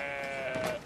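A sheep in Brothers: A Tale of Two Sons lets out a single short, wavering bleat, fairly quiet, under faint game ambience.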